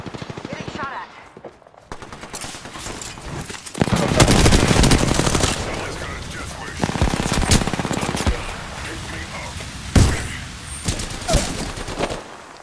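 Apex Legends gunfire: rapid automatic bursts and sharp shots crackle loud and close in a firefight, with brief pauses between volleys and game voice lines mixed in.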